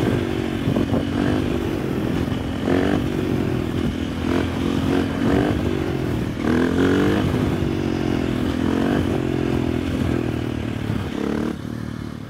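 Supermoto motorcycle ridden during a high-speed wheelie training session, its engine droning loudly and steadily with rising and falling revs and gear changes, close to the microphone and with no voices.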